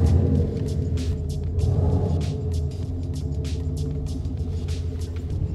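Hummer H2 cabin while driving on the road, a loud steady low rumble of tires and engine with recurring faint ticking and clicking over the top, no talking.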